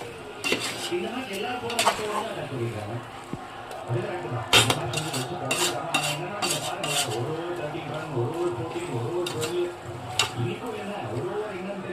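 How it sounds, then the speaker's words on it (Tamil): Chicken frying in masala for biryani in a pot, stirred with a metal spoon that scrapes and clinks against the sides repeatedly over a low sizzle, with a voice talking at times. "கறி நல்லா ஃப்ரை ஆயிடுச்சு, வெந்துட்டு இருக்கு"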